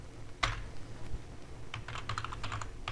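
Close, quiet typing on a computer keyboard, a single sharp key tap followed by a short pause and then a quick cluster of light clicking keystrokes, with no voice over it.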